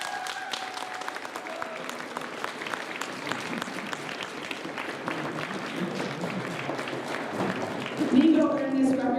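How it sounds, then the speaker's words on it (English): An audience at a record-recognition ceremony claps in sustained applause, dense and steady from start to finish, swelling a little louder near the end, with voices mixed in underneath. "Let's give one big round of applause for Nico"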